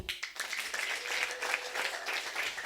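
A church congregation claps for the Lord during a service, a faint, dense patter of many hands heard from a distance.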